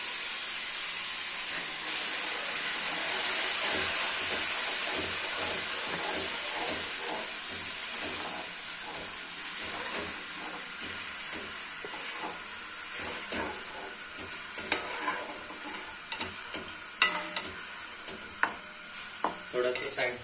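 Yogurt goes into a pan of korma over steady high sizzling and frying hiss, with stirring and clinks of a spoon against the pot building toward the end; no speech.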